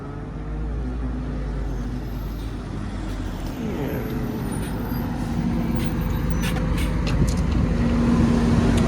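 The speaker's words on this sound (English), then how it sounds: "we're waiting the bus to go to Cala to have the brunch" A bus pulls in at a stop in Cala d'Or, Mallorca. Its engine rumbles steadily and grows slightly louder, and short hissy bursts of air-brake release come near the end, with no clear talking.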